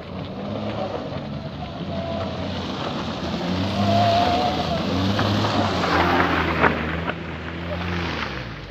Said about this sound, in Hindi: यहाँ पर सबसे ज़्यादा गाड़ियाँ स्लिप करती हैं